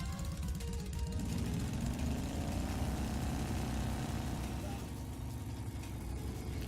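A motorbike engine in the Trails of Cold Steel video game, run up from the clutch into first gear, makes a steady, loud mechanical drone that holds throughout.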